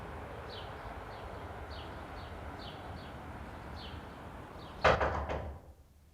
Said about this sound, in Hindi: हमारे दरवाजे की आवाज है।